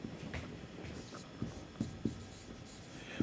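Marker or chalk strokes on a board during an accounting lecture, soft rubbing scratches with a few sharper taps, faint and close.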